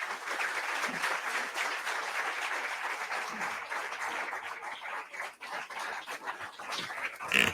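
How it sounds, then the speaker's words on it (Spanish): An audience claps steadily through a tribute broadcast honouring writers who died tragically, the applause dense and sustained at moderate loudness, with a few louder bursts near the end. "ese aplauso para Luis de León"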